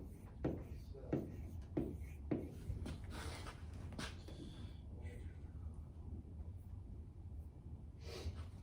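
Pencil writing on a paper worksheet during a first-grade math lesson, a few short scratchy strokes near the start, then a quieter stretch. Faint speech-like breathing sits underneath.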